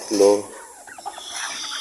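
A hen gives a short, throaty cluck up close on a small farm, followed by softer scattered clucks and rustling in a quiet setting.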